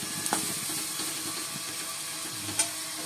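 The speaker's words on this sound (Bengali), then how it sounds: "এদিকে পেঁয়াজ আর উচ্ছে ভাজা করছি" Sliced onions and bitter gourd sizzle in a frying pan, a steady soft crackle with a couple of sharper clinks from stirring, close by and heard with no talk.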